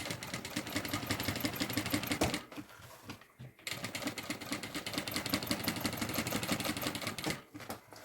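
A sewing machine stitching fabric for a pink wheeled suitcase runs in a fast steady mechanical chatter, pauses briefly twice, then resumes, heard close.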